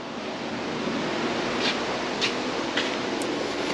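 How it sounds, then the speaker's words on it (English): A steady broadband whoosh of a fan running nearby, constant and fairly loud, with a few faint clicks and no talking. "Excuse the fan noise."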